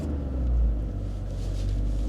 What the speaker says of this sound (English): we're just gonna see what happens if I induce a little bit of wheel spin.